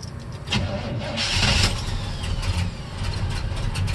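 A Pro-charged 1972 Chevelle engine cranks and catches, settling into a loud, close, rumbling idle over a few seconds, with no talking.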